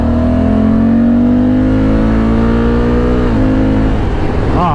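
A 2024 Honda Africa Twin DCT motorcycle with 102 horsepower pulls hard on the Autobahn in Germany, engine tone rising steadily, briefly dipping at a gearshift and then climbing again, loud and continuous under steady wind roar.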